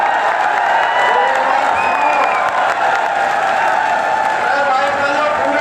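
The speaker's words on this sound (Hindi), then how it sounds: "जोरदार तालियां" Crowd at a Congress political rally in Bahal applauds and cheers steadily for several seconds, a dense continuous roar of clapping with voices mixed in and no single speaker standing out.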